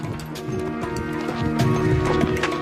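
Hooves of army horses walking in file through a narrow rocky pass, a steady clip-clop of many hoofbeats over a dense, constant backdrop with music-like tones layered in.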